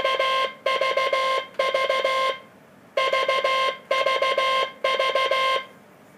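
Bursts of rapid, evenly spaced heavy-weight Morse code (CW) dits in a steady tone, the marks long and the gaps short, arriving in repeated clusters with brief pauses.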